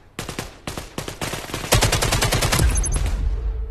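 Gunfire in a VR shooter game: several separate shots, then a fast sustained burst of automatic fire, loud and close, with no talking.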